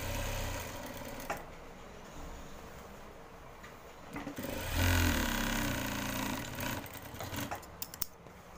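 A sewing machine runs in steady bursts while stitching a boys' pajama, its mechanical whirr fairly quiet and close, rising briefly in the middle with some handling clatter.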